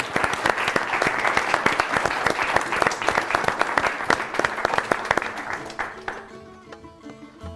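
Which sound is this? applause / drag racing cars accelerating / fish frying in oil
applause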